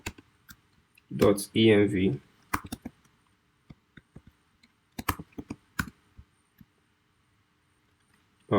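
Keys clack on a computer keyboard as a terminal command is typed, a series of sharp, separate taps with uneven gaps, mostly alone after a short spoken phrase.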